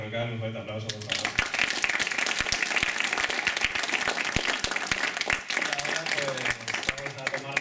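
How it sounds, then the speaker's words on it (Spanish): An audience applauds at the end of a talk, a dense burst of clapping that starts after a brief spoken line and continues strongly before tapering off near the end. "Pues muchas gracias a Manuel Berrocal, un fuerte aplauso, por favor."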